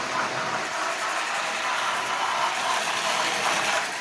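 The motor of a Marx 6000 toy train locomotive, an A and B unit pulling a Wabash gondola, runs with a continuous whirring buzz and faint mechanical rattle, moderately close and steady.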